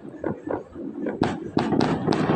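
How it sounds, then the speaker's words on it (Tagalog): Fireworks burst in a New Year celebration, a run of sharp cracking pops coming in quick succession and growing louder and denser toward the end, with some faint voices earlier on. "Puro lang fireworks nga, no?"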